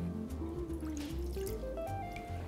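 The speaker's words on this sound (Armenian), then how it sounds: "Խմորի համար հարկավոր է սիրելի համանի մեջ լցնել գոլ ջուր" Warm water pours steadily into a bowl to make dough, a continuous close splashing fill whose pitch climbs as the bowl fills over a couple of seconds.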